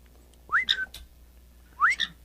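A pet bird whistles two rising, squeaky calls that mimic a crate door opening, each a short upward sweep followed by a brief chirp, close and clear with a pause between them.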